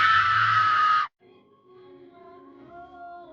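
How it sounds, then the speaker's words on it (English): A person in a scary video lets out a loud, sustained scream for about a second, then it cuts off abruptly, leaving faint tonal background sounds. "why are you screaming like that?"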